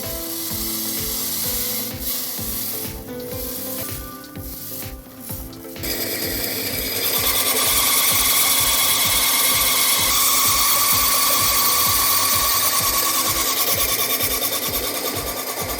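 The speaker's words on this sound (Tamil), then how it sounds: "ஸோ ஜஸ்ட் இது அரிசி போட்டுட்டு நம்ம இது எப்படி ஒர்க் பண்ணுதுன்னு பார்த்துடலாம்." A horizontal 2-in-1 chaff cutter and pulverizer grinding rice into flour, a loud, steady mechanical roar with a rapid rhythmic rattle that builds midway and then runs on continuously, close by with no talk.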